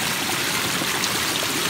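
Water flows steadily over a backyard pondless waterfall, a continuous close rushing and trickling wash with no pauses and no voices.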